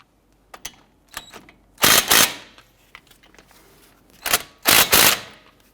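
A ratchet clicks in short quick bursts while snugging rear brake caliper bolts on a 2007-2014 Cadillac Escalade, two louder runs of rapid clicking standing out over quiet pauses.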